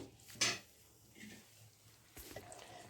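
Metal spoon scraping and clinking against a pan while yogurt is stirred into roasting cauliflower, one sharp clank followed by softer scraping and a later rattle, faint and close.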